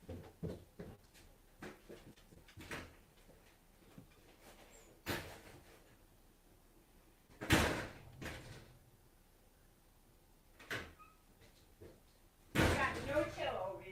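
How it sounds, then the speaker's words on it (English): A series of sharp knocks and thumps of someone banging on a door, scattered irregularly with a few louder bangs and a rattling burst near the end, amid quiet talk. "He's banging the door."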